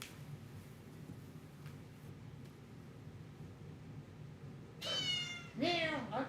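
A quiet, hushed background gives way near the end to two loud, close meows from a cat upset after a claw clipping, the second longer and more insistent.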